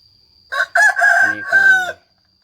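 A single loud, close rooster crow, one long cock-a-doodle-doo rising and holding before cutting off into silence.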